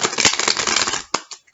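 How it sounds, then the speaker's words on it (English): A deck of tarot cards is shuffled up close: a dense riffle of rapid crisp card flicks for about a second, followed by a couple of short snapping taps as the cards settle. "One more shuffle."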